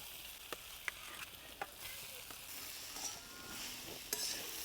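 Mashed boiled potatoes stirred into turmeric and chili fried in a pan for samosa filling, with soft sizzling and a few light scraping clicks of a spoon against the pan, quiet and close, no talk.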